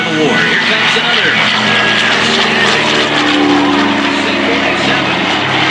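A C-47 propeller transport plane roars past loudly at an air show, its engine drone filling the air continuously and close, with crowd or announcer sound mixed in.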